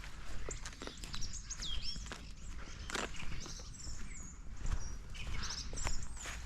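A song thrush sings from a tree in a wintry woodland, its bright repeated phrases carrying at middle distance over soft footsteps and rustling.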